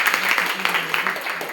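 Audience clapping at a girls' intermediate college programme, a steady wash of applause lasting a moment with faint voices mixed in.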